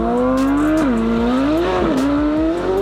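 A 2023 Chevrolet Corvette Z06 V8 engine drones loudly and steadily close by, its pitch dipping and rising with throttle changes across the few seconds without any talk.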